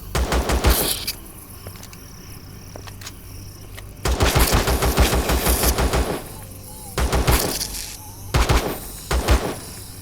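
A player's weapon in Empyrion Galactic Survival fires in rapid automatic bursts, several loud close strings of shots separated by short pauses.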